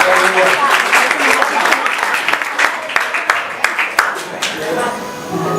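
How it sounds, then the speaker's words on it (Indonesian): A church congregation claps during a year-end worship service, a dense, steady patter of many hands under a speaking voice, with sharp claps standing out near the end. "Beri tepuk tangan sekali lagi buat Tuhan Yesus."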